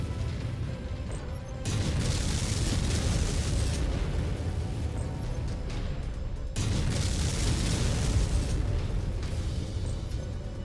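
An enemy mech blows apart in MechWarrior 5, a loud sustained explosive roar with rumbling debris that cuts off and then surges again in a second blast, with no talking over it.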